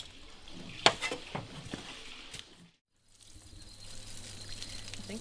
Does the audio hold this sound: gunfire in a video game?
no